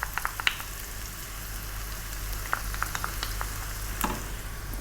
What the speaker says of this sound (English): Keep it moving all the time now, you know, really often. I don't want that garlic and ginger to burn.